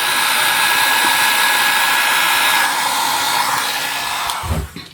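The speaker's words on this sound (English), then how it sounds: "I've been taking this little heat tool I've got, which is technically a Conair curling iron" A Conair curling iron used as a small heat tool blows steadily on clear resin in a hand mold, a loud continuous airflow hiss that holds for about four seconds before a brief clunk as it stops.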